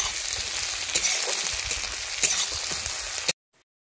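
Onions frying with a little sugar until brown in a pan, a dense steady sizzle with a few soft stirring scrapes, stopping abruptly near the end.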